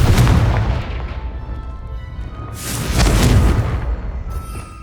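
In the video game Hogwarts Legacy, a Confringo spell goes off as two heavy, booming explosive blasts, each followed by a rumbling decay, with no talk over them.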